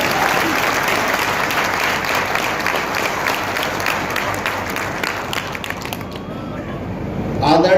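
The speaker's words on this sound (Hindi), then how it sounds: "जरा जोरदार तालियों के साथ मुख्यमंत्री जी का स्वागत करें।" At a journalists' association convention, an audience gives loud, sustained applause to welcome the Chief Minister, a dense wash of clapping that thins near the end.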